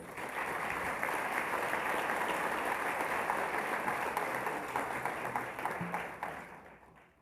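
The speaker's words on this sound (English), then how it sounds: "Another round of applause, please." Sustained applause from a large audience at the opening session of the OAS General Assembly, following a carnival performance from Antigua and Barbuda; steady dense clapping for about seven seconds, fading out at the end.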